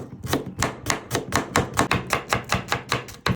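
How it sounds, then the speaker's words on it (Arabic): A knife cuts onions into slices for Palestinian musakhan, making close, steady chopping strokes on a board, about three to four per second, with no speech. "بناخذ هالبصلات وبدنا نقطعهم بهذا الشكل لطرنشات"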